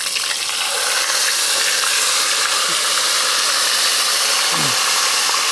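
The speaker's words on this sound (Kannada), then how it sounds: "ಇದೀಗ ಒಂದೊಂದೇ ಮಸಾಲೆಗಳನ್ನು ಹಾಕಿಕೊಂಡು ಅದರಲ್ಲಿ ನೋಡಿ ಫ್ರೈ ಮಾಡ್ತಾ ಇದ್ದಾರೆ" Spices for chana masala fry in a hot pan, a loud dense continuous sizzle with a roaring hiss underneath and a couple of brief scraping stirs.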